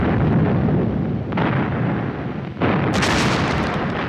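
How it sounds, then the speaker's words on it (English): Soviet artillery fires a victory salute of 124-gun salvos alongside fireworks in Moscow's Red Square: a dense, sustained roar with several heavy booming bursts, loud and continuous with no voices. "Stalin ordered 12 124-gun salvos and a barrage of fireworks in Moscow's Red Square"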